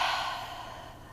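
A deep exhale out through the mouth during yoga breathing, a single soft breathy rush that starts strongest and fades away over about a second, close and quiet.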